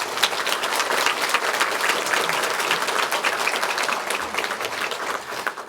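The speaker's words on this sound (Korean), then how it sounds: "그동안의 노고를 박수로 격려해 주시기 바랍니다" A church congregation claps at a New Year's midnight worship service, honouring a departing choir organist: sustained, dense applause filling the room at even strength, easing slightly toward the close.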